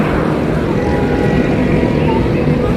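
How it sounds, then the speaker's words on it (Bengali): Cool wind blowing across a highway rest stop, a constant rumbling buffet close to the microphone, loud and steady throughout. "বেশ ভালো হাওয়া দিচ্ছে, ঠান্ডা ঠান্ডা"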